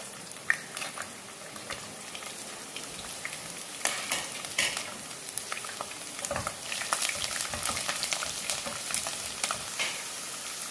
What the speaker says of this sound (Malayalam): ചൂടായ നല്ലെണ്ണയിലേക്ക് ആദ്യമേ വെളുത്തുള്ളി ചേർക്കാം